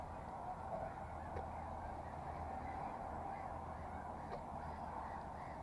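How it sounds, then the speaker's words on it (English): Ducks and geese calling at an RSPB nature reserve, faint distant honks and quacks over a steady outdoor wind and background hum, no talking. "But look, you got ducks out there."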